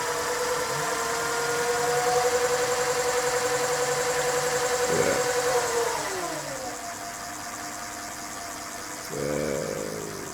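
An electric bike hub motor runs under constant torque, giving a steady, close whine whose tones slide down and back up, with a brief dip around the middle before the whirring resumes.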